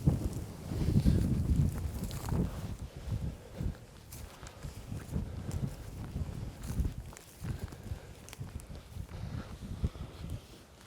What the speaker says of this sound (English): there's quite a wind now